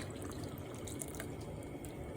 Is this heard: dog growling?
no